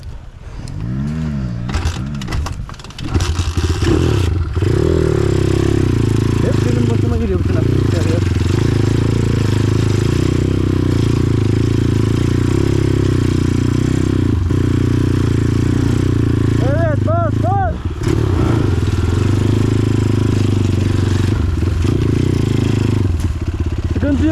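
A dirt bike engine in a forest sputters, then revs up and holds a loud, steady mid-pitched drone with repeated rising throttle blips, while people talk and shout over it.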